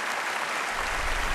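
Audience applause fills the hall at the Kennedy Center Honors, a dense, steady clapping from a large crowd, with band members in the balcony standing to join in.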